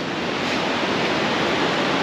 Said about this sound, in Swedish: Vattenfallet och forsen i sin helhet